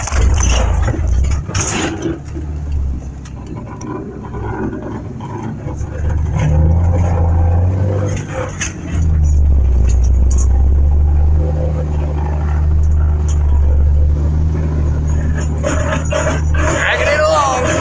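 A logging truck with a half-burnt-out clutch is put in gear and pulls away, its engine a loud, steady low rumble that swells midway and holds, with a voice heard now and then over it.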